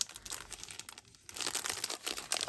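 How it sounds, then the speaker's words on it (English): Plastic bags crinkle and rustle steadily while a subscription embellishment box is unboxed, with close, continuous crackling that dips briefly before growing louder again. "Sorry for all the crinkling."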